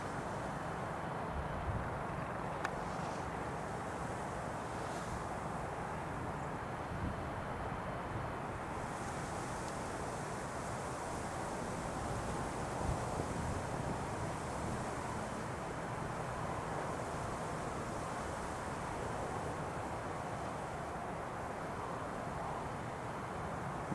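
Steady broadband rumble of an EasyJet airliner landing into a gusty headwind at Newcastle International Airport, a continuous distant roar mixed with wind buffeting the microphone throughout.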